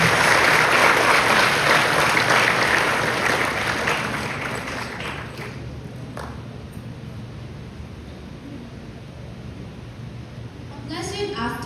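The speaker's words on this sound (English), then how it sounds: "Let us give her a round of applause." A school audience applauds a welcome speech by an honor graduate, loud dense clapping at first that thins and fades over several seconds, then a brief burst of claps at the end.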